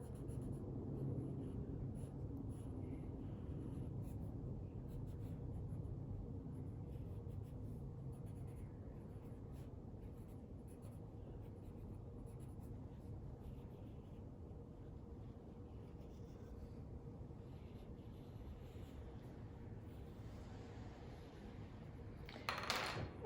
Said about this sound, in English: I'm going to outline that in my dark pencil.